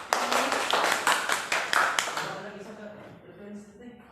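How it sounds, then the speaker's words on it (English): A class gives presenters a round of applause in a literature lesson, with a burst of claps that thins and fades after about two seconds, and some voices murmuring underneath. "Let's give them a round of applause."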